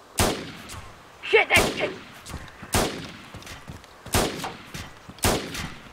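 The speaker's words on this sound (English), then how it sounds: "I'm taking fire" Gunshots in the video game DayZ ring out in sharp, separate cracks at a few irregular intervals, loud and close, while a player curses briefly between shots.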